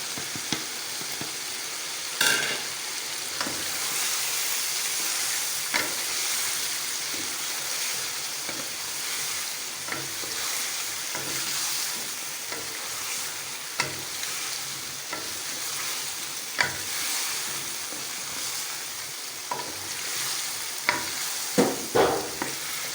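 Aloo gosht of potato and meat fries with spices in a pan: a continuous close sizzle broken by scattered stirring scrapes and occasional sharp clacks of the spoon, with no talk.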